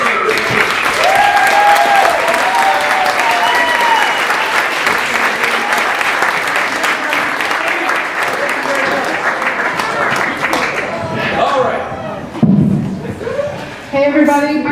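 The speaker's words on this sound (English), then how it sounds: "let's just give a really big round of applause" Sustained audience applause at a holiday concert, loud and dense for most of the clip, with some chuckles and crowd murmur, then thinning out near the end as a few voices and thumps come through.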